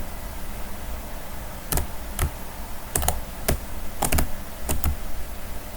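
Computer keyboard keys pressed in short clusters of sharp clicks, spaced irregularly over a steady background hiss, close and fairly clear with no talk.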